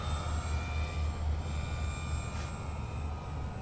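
Dynam P-51 Mustang RC model warbird with four-bladed prop flying overhead, its electric motor a steady moderate drone with a slight swell mid-pass, heard outdoors at some distance without speech.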